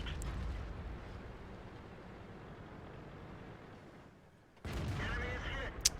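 Tank cannon fire in the World of Tanks game, playing an M46 Patton: a dense rumbling roar dips quieter, then a loud blast erupts near the end and is capped by a sharp crack.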